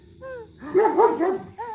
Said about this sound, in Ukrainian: Бач, там собака.